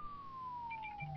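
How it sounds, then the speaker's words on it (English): An ambulance siren in the SimCity video game, a steady wailing tone that slowly falls in pitch, heard faint and distant. "Oh, there's an ambulance right there."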